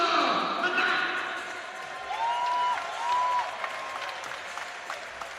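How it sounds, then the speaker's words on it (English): Crowd applause at a high school all-star basketball game sounds steady and moderately distant, and an announcer speaks over it. "And you heard that round of applause"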